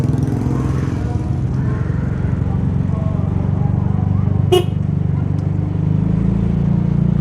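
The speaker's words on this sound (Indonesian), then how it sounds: "Gue sengaja gitu pakai klakson mobil gitu." Motorcycle fitted with a car horn gives a single short honk midway through, heard over a steady low engine rumble while a person talks.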